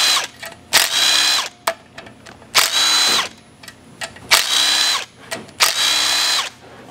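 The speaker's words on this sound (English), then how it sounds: "We're going to take all these gold bolts out of here next for the solenoid." Power drill-driver spinning out gold solenoid bolts from an Allison 1000 transmission on a Duramax, several close, loud whirring bursts of about a second each, separated by short pauses and a few ratchet-like clicks.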